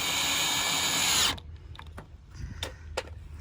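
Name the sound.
drill driving stainless steel self-tapping screws into a frame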